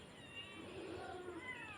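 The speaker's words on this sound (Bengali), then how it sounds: "আমার বিড়ালগুলো খাওয়া দাওয়ায় কী করে দেখেন মাথা নষ্ট খাবার জন্য" Hungry cats meow for food at midday while a meal of fried fish and rice is being cooked, their cries rising over a faint background hiss, with a sharp knock at the very end.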